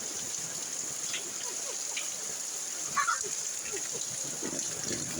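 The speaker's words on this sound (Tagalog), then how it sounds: "Lakas na ulan." Heavy rain pouring down outdoors, a steady broad hiss of falling water with faint splashes, holding at an even level throughout while quiet background voices are heard now and then.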